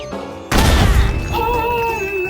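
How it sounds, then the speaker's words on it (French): A holy grenade goes off in the video game Worms Battlegrounds: a sudden loud boom with a crashing burst, followed by a sustained ringing tonal tail. "La sainte grenade, c'est ça."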